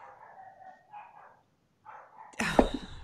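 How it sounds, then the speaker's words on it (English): A dog barking during a podcast recording: faint, muffled yips early on, then one louder close bark near the end, with quiet background between. "I'm talking about the fucking dog. She doesn't want to stop barking."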